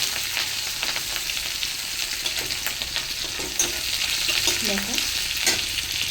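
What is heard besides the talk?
spice tempering with green chilies frying in a pan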